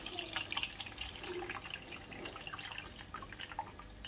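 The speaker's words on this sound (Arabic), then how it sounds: "بس انا هصفي المشروم الاول." Mushrooms being drained in a kitchen, with water trickling and dripping from a strainer in soft, irregular splashes, quiet and close, no voices.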